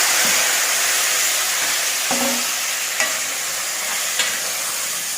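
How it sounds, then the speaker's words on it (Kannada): Chopped tomatoes hit a hot tempering of garlic and curry leaves for Karnataka tomato saaru, giving a steady loud sizzle with a few sharp spatula scrapes and clinks as the pan is stirred over high flame, no voices. "ಈಗ ಇದಕ್ಕೆ ಕಟ್ ಮಾಡಿದ ಟೊಮೆಟೊ ಹಾಕಿ"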